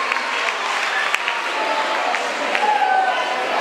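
Audience applause for a jury member at a debate contest, a steady wash of clapping from a crowd that holds evenly for several seconds with no voice over it.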